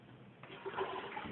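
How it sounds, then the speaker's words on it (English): Water poured from a basin into a bedside commode during a foot-care procedure, a short close splash and trickle lasting about a second, rising midway and continuing steadily. "She will put the water into the bedside commode."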